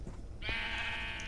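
A sheep in a video game library gives a single drawn-out bleat, clear and near, over a soft background hum.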